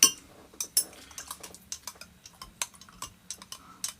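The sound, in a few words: spoon stirring Chinese chicken curry in a pot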